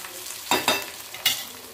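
Onion sautéing in a pan with a few curry leaves, a steady close sizzle broken by three sharp stirring scrapes, no voices present.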